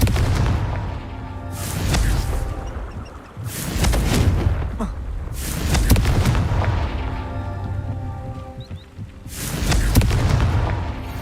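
Confringo explosive spell blasts in Hogwarts Legacy, striking rocks as repeated loud booms roughly every two to three seconds, each a sharp burst with a rumbling tail, layered over steady game background sound.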